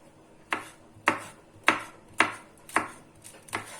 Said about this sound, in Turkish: Şöyle ince ince doğruyorum yeşil biberlerimi